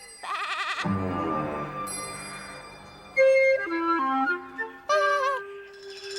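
Sheep bleat several times nearby in an animated series, wavering drawn-out calls overlapping one another, with short pauses between them.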